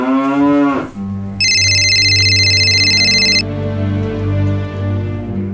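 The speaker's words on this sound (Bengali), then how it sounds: "বাবা ফোন করেছে।" A mobile phone rings with a bright electronic tone that repeats for about two seconds over a low sustained drone, following a brief mooing-like sound at the start.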